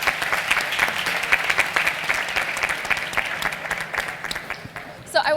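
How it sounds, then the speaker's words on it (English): Audience applause at a teen design fair at the Cooper Hewitt museum during National Design Week, a dense, steady roar of many hands clapping that continues for the whole span at a moderate level. "And I hope you'll give Amir a round of applause for asking such great questions"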